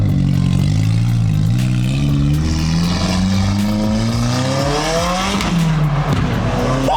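A Subaru STI engine revs hard, its pitch rising and falling in sweeping climbs, loud and close, with rough exhaust crackle and possible tire noise layered in.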